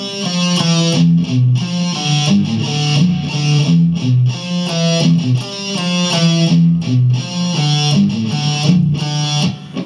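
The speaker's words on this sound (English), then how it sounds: "the riff obviously is the same thing with distortion" A distorted electric guitar plays a repeating riff, chugging chords and rising notes, loud and steady with no voices.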